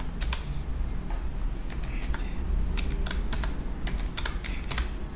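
Typing on a computer keyboard in the SEI system, a quick irregular run of crisp nearby key clicks with short pauses, over a faint steady hum.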